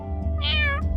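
A cat gives a single clear meow, close and fairly loud, with a short bump of noise right after in a quiet indoor space.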